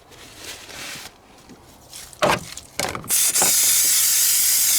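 Carb cleaner sprayed onto the EGR valve of a VW T5 2.5 TDI van, loud close hissing in short bursts that settles into one long steady spray.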